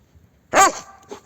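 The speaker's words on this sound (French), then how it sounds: "Vas-y, aboie, on est au milieu de la pâture" A dog barks out in a pasture, one loud close bark followed shortly by a softer second yelp, with quiet surroundings otherwise.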